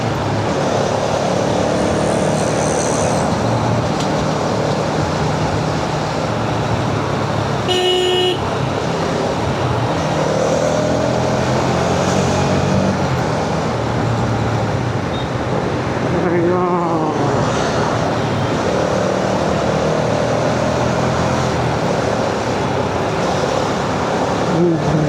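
A car, with a Thar and other vehicles nearby, drives along a road with a steady engine and road rumble. A short horn toot and a brief passing sweep from another vehicle break through along the way.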